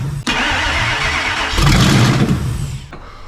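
A Ford Harley-Davidson F-150 engine cranks hard in a steady whirring rhythm, then catches and roars louder near the end before cutting off, close and loud throughout.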